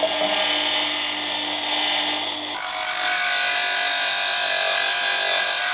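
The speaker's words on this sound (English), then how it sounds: "I grind up the back of the tooth space just a little bit, so the amount I have to grind for clearance behind the cutter is reduced" Power grinder sharpening the back of a saw cutter tooth, a steady loud whine that jumps to a harsher, brighter grind midway and holds, close up with no talking.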